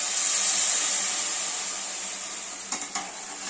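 Tamarind water poured into a hot pan for vatha kuzhambu, a steady close sizzle and hiss that slowly eases, with a couple of soft stirring clinks near the end.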